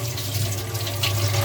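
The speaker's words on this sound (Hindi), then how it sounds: "तो पानी खुल चुका है" Steady rush of water running from a household tap after its spindle has been replaced, a continuous close, even flow with no talking.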